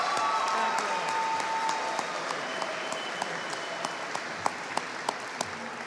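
A State House rally crowd applauds its speakers in a steady wash of clapping from many hands, moderately loud and sustained, with a few sharper nearby claps standing out toward the end.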